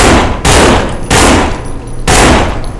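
Loud automatic gunfire in a zombie survival shooter, coming in three dense full-auto bursts of about half a second each, separated by short gaps filled with quieter background sound.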